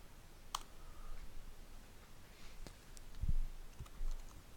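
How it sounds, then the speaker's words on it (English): Keys clicking on a computer keyboard at close range, a handful of sparse, faint taps with a couple of firmer presses, including the Enter key, over quiet room noise. "We're going to press the Enter key."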